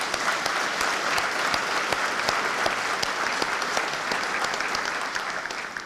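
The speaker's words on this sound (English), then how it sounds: "Let's give a big round of applause to all of our speakers again" Sustained audience applause at a veterans ceremony, a dense steady wash of many hands clapping at close range for the full length without letting up.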